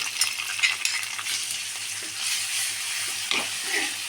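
Curry leaves and ginger-garlic paste fry in a pan with chopped onion, giving a steady close sizzle with light stirring scrapes throughout, no voices.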